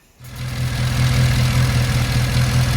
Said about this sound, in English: as you can see, the engine is now running